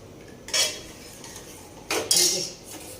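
A spoon stirs cream into pumpkin raita in a bowl, giving two short bursts of clinking and scraping against the bowl, separated by quiet, close and moderately soft.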